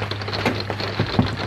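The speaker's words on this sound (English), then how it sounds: "I'm having to cook inside because it's raining" Rain falls outside in a soft, continuous patter with a few louder drops, heard faintly from indoors while cooking.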